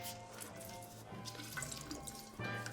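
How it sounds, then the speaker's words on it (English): Lemon, mandarin and orange are squeezed into a drink, with quiet, scattered drips and trickles of juice falling into liquid, faint and close with no talking. "let's squeeze all the citrus in there as well"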